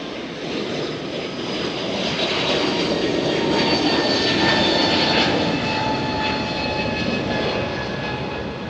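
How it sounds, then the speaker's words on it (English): A jet airplane taking off overhead, heard from outside a house attic, a steady broad roar that swells and holds loud through the clip with a faint whine riding on top. "Jet's taking off."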